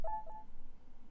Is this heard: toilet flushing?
no